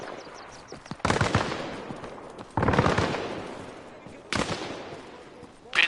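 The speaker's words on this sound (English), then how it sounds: "I got shots coming from the north." Gunfire in the video game Arma Reforger: three loud sustained bursts of automatic fire, each starting sharply and trailing off into echo, with quieter distant shots between them.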